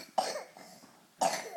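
A young child who needs a breathing treatment coughs twice, about a second apart; each cough is short, harsh and close, in a quiet room.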